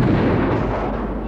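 Heavy musket and cannon fire roll through a colonial-era battle between French and British forces, a loud, dense continuous rumble of booming blasts with no clear gaps.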